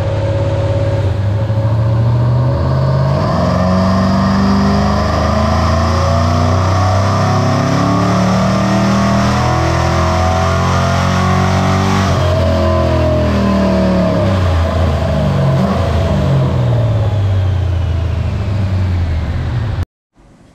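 A Dodge Dakota RT engine with a stock intake manifold revs hard on a dynamometer, a loud continuous roar that climbs steadily in pitch through the gear run and cuts off abruptly at the end.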